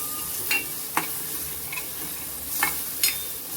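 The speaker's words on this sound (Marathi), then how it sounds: "छान मस्त आपण परतून घेणार आहोत" Noodle and vegetable samosa filling being sautéed in a pan, a steady low sizzle with a handful of sharp spatula scrapes spaced irregularly, close with no talk.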